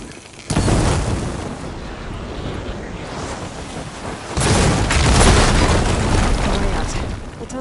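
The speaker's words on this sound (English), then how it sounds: "I should be able to blow this up to clear the debris. Hitting those blaze barrels with fire ammo should do the trick." Blaze barrels struck by fire ammo erupt in Horizon Forbidden West, a heavy roaring blast that swells into a long rumbling, windy wash, with a second, louder surge of fiery roar midway through.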